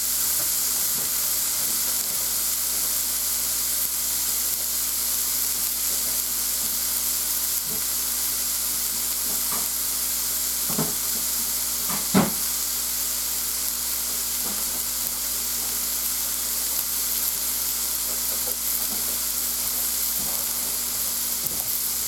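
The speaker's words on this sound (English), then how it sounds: "I believe that side's seared long enough." A steak sears in a pan with a steady, even sizzle and hiss throughout, broken by a few brief clicks and pops, with no voices.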